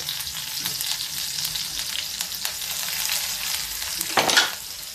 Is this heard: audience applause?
no